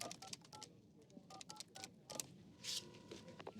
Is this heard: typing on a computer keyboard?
no